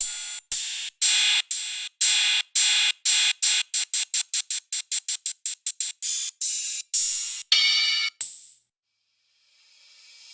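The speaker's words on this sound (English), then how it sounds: "But let's do cymbal." A rapid series of bright, hissy cymbal hits from a default Ableton Live sample in a stuttering rhythm that speeds up, then a final longer crash fades into near silence.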